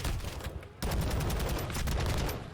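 Dense, rapid gunfire rattles almost nonstop in a competitive Call of Duty Control match at Al Bagra Fortress, loud and layered, with a brief break before it resumes.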